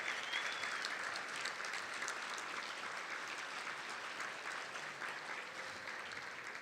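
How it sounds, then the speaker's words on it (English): A conference audience applauds law enforcement officers, a sustained wash of many hands clapping in a large room, steady and fairly distant, fading slightly near the end. "Can we have a show of hands and applause?"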